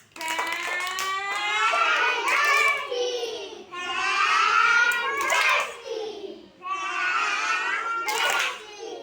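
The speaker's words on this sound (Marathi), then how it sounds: "त्यासाठी टाळ्या वाजवा एकदा परत" Schoolchildren clap together in a classroom in a few short bursts, mixed in with their loud chanting voices, which run almost the whole time.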